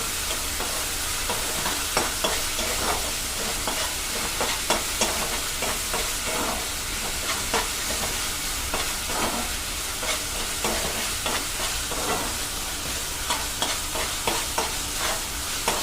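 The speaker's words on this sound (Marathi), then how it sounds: "हे व्यवस्थित परतून घेऊ." Chili paste being stirred and sautéed in a pan for egg and sausage fried rice: steady close sizzling and frying with repeated scraping stir strokes throughout, no talking.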